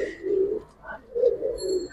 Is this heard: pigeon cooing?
yes